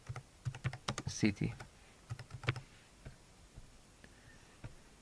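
Computer keyboard keys clatter in quick bursts of close clicks, pausing and resuming with sparser taps toward the end, while a voice briefly speaks over the typing.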